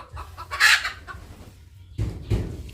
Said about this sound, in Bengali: এই যে আমাদের মুরগি ডিম পেরে বেরোলো